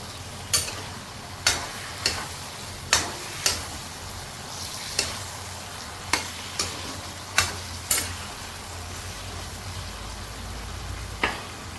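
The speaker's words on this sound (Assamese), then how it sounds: "গেছটো বেছিকৈ দি পেলাই ভাজিম" Masoor dal lentils fry in a pan on a gas stove, a low steady sizzle broken by sharp scraping stirs every second or so, close and fairly quiet, with no talking.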